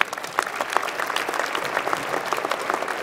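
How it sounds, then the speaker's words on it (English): At a university engineering commencement ceremony, the crowd applauds an honoree approaching the podium, a moderate, steady patter of many hands with individual claps standing out. "Please give him a round of applause, please."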